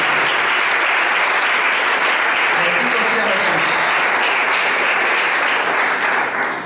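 A church congregation breaks into loud, sustained applause during a sermon, a thick wash of clapping that fills the room while a preacher's voice calls out over it.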